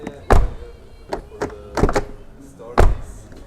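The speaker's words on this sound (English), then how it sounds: "Now, the door sound is" The door of a 2024 Mercedes E-Class estate car is shut, producing several dull, solid thunks close by, spaced irregularly, with a voice briefly present between them.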